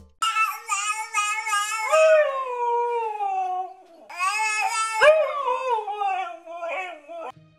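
A husky dog howls in long, wavering, singing tones, breaking into yips and whining bark-like calls in two drawn-out bursts with a brief pause between, close and loud.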